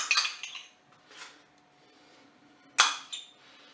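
Utensils clink and scrape against a dish as mustard is stirred into cod, two sharp metallic bursts with softer scraping between, close by and without speech.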